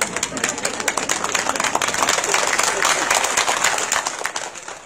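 An audience breaks into applause during a Buddhist monk's dharma talk, a dense, steady patter of many hands clapping that swells slightly and holds for several seconds.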